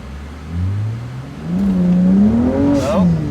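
BMW E92 M3, just back from rod bearing replacement, pulling hard at full throttle from inside the car, engine note climbing in pitch through the rev range with a short dip and rise, loud and close, with speech over it.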